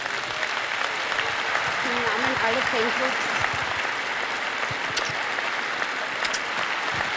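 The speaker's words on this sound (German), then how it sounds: "Ein Applaus für dich, Doris." Concert audience in the Wiener Stadthalle applauds fan club president Doris at a show, a steady broadband wash of clapping running the full length beneath someone speaking German.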